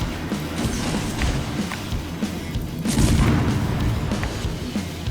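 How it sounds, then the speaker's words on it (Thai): A warship in World of Warships takes gunfire from behind, with booming shell impacts and explosions over a low rumbling background, swelling louder around the middle of the passage. "มีคนยิงเราจากด้านหลัง"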